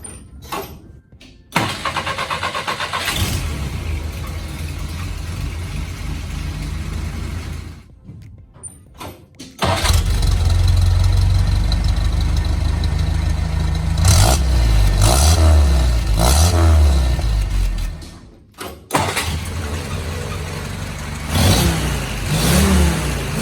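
A 1967 Jeep CJ5 engine with a new exhaust starts and settles into a deep, throaty idle, then revs hard several times with loud rumbling bursts and brief pauses.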